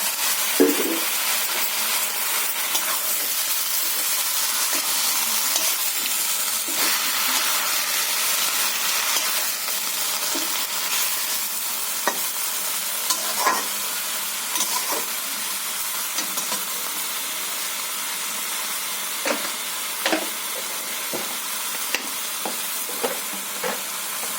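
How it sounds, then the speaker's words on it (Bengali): Sun-dried winter vegetables frying in a pan as they are stirred, a continuous hissing sizzle with intermittent scrapes and light knocks of the spoon against the pan, close and moderately loud, no voices. "এর মধ্যে রোদে রাখা আমি সবজিটা দিয়ে দিচ্ছি"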